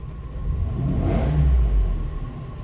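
A Mercedes W140 S600 coupe engine revs once, a low rumble that swells to a peak and then eases back, close and alone.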